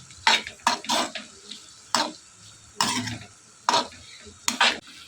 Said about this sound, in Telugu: డార్క్ సోయా సాస్ వేసుకుని ఇదంతా కూడా బాగా మిక్స్ అయ్యేలా కలుపుకోవాలి.